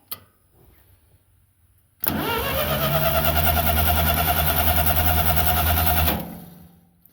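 A classic tractor engine in neutral starts abruptly and runs steadily with a little throttle, a loud close rhythmic chugging for about four seconds before cutting off.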